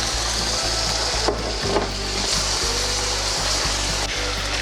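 Meat frying in a pan with a steady broad sizzle as chopped celery cut on the bias and onions are added for a Chinese-style macaroni, with periodic low thumps and stirring scrapes.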